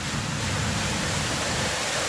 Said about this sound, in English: Got the water falling down over here on the little water feature